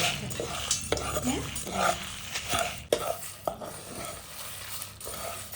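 Coriander seeds being dry-roasted in a pan for coriander powder, giving a busy, close rattle and scrape of stirring with irregular clinks and faint sizzle, alone without talk.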